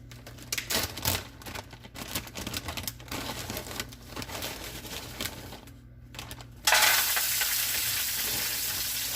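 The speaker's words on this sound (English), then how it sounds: "We're gonna go ahead and stir fry." Food sizzles and crackles in a pan during stir-frying, with scattered scraping and clicking stirs close by, then the hiss swells into a loud, steady sizzle for the last few seconds.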